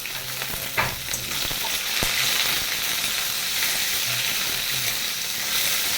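Onion and green chilies fry in hot oil, giving a dense, continuous sizzle with a few brief stirring knocks near the start.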